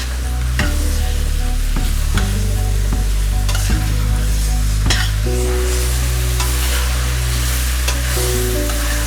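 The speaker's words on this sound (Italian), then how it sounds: "iniziamo a soffriggere" Extra virgin olive oil sautéing in a pan, seasoned with salt and pepper, for olive all'ascolana: a steady close sizzle with repeated stirring scrapes and clunks throughout, no voices.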